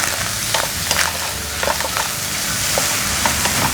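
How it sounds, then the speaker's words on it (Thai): Shrimp fried rice with basil, oyster sauce and seasoning sauce stir-fries in a hot pan, a loud continuous sizzle broken by repeated spatula scrapes and taps, close up and without speech. "ก็ผัดกัน"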